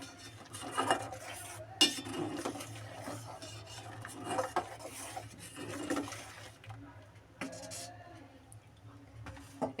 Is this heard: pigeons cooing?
no